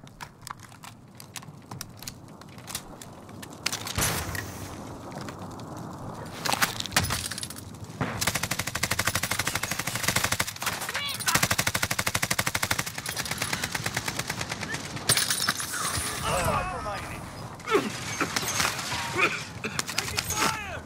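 Gunfire in the video game Win No.27 crackles in rapid bursts, with dense automatic fire and sharp single shots over about twenty seconds amid a steady game-sound background.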